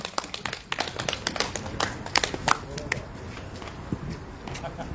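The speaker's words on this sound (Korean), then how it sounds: "박수로 모시겠습니다." Applause from a gathered crowd at a Korean candlelight protest rally, hand claps dense and steady for a few seconds, fairly close, with faint voices and bustle underneath.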